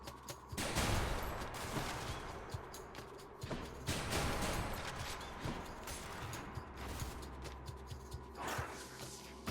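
In the video game Hades, an automatic bolt launcher fires rapid, clattering volleys with mechanical clicks and impact hits. The bursts come in quick repeated waves at fairly low volume, with no talk over them.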